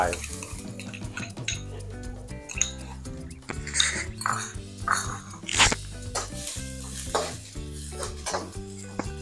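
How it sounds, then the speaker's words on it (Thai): Garlic stir-fried in a pan for a Thai canned-fish chili paste, with loud sizzling oil under repeated metal scraping and clinking of a spatula against the pan in an irregular stirring rhythm, close up. "กระเทียมก่อนเลยครับลำดับแรกใส่กระเทียมไป"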